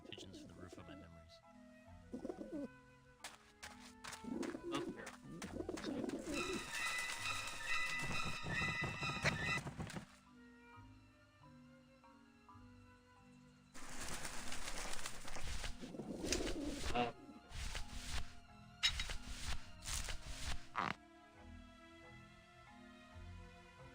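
Soft repeated pigeon coos from the video game Grim Fandango, rising and falling in bursts amid layered game music and ambient sound, with someone talking over parts of it.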